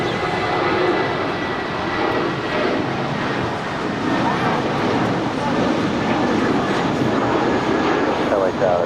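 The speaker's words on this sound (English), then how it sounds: "That is United 2611 departing to San Francisco. It's a 28-year-old Airbus A320." A 28-year-old United Airbus A320 departs Los Angeles International Airport for San Francisco, its engines producing a loud, sustained roar that fills the scene while people talk over it.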